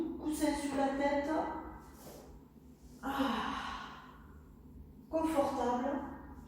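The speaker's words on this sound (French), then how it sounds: "On fait une petite respiration" Deep, audible exhales during a sophrology relaxation exercise, several slow sighing breaths spaced a few seconds apart, close to the microphone.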